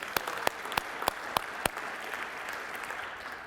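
Applause at a city State of the City address in Mulberry, Georgia, starting with several sharp, separate claps before settling into a steady, soft wash of clapping from a modest audience, moderately distant.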